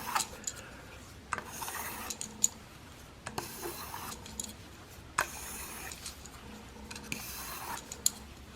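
A broadhead edge scrapes across a 2500 grit sharpening stone in alternating strokes, giving a series of close, rhythmic raspy rubs separated by short pauses.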